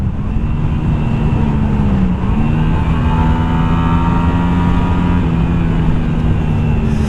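Honda Shadow 125 bobber motorcycle engine running steadily while being ridden, a loud continuous low drone with a brief dip in revs before climbing back up.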